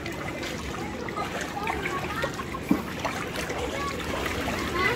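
Floodwater rushing through a flooded area in Manukan, Zamboanga del Norte, a steady broadband wash of flowing water close by, with voices talking over it throughout.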